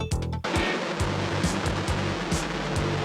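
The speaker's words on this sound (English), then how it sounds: "Then they splashed into the ocean." A space capsule splashes down into the ocean with a sharp impact, followed by a continuous loud rush of churning water and surf.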